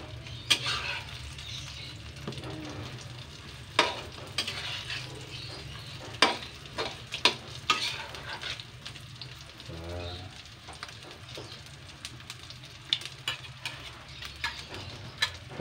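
Malunggay omelet frying in a pan, a steady soft sizzle with scattered crackles and pops, fairly quiet and continuous with no talking.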